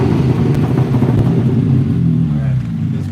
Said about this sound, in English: he's gonna rev the exhaust for us, give us a little taste of that